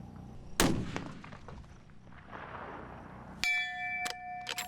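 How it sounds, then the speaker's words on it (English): A long-range precision rifle is fired at an extreme-distance shooting competition: a single sharp, loud crack, then a few seconds later a distant metallic ringing as the steel target is hit and keeps humming. "That first shot was only about 6 inches low"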